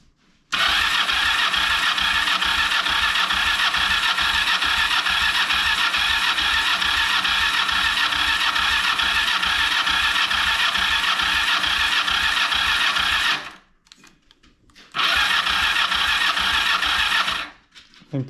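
A 2006 Kawasaki Ninja 500R motorcycle cranks over on its starter in a long, rapid rhythmic churn without firing, pauses briefly, then cranks again for a few seconds, loud and close with no talking.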